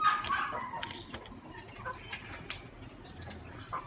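Racing pigeons cooing and fluttering nearby, pigeon calls mixed with faint clucks and soft rustling over a low background hum.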